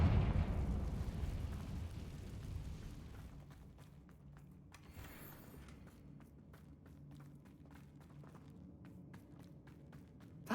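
In Hogwarts Legacy, a Confringo fire spell bursts in a deep, rumbling explosion that is loudest at the start and then fades. Faint footsteps and soft ticking sounds come in as the rumble dies away.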